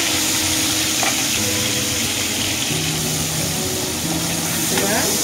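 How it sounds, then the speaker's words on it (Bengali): A raw fish curry simmers and sizzles loudly in a pan while salt is stirred through, with a continuous frying hiss, scraping strokes and a voice talking over it. "নুন দিয়ে ভালো করে নাড়াচাড়া করে নেবো"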